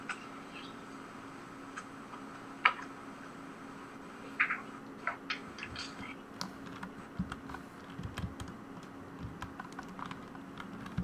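Computer keyboard typing, a quiet run of irregular clicks at a steady background level with a few sharper key strikes, heard during Minecraft factions play.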